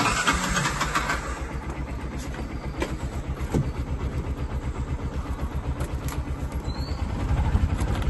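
A vehicle engine runs steadily, a loud close rhythmic low throb that pulses evenly and swells slightly toward the end, with no voices.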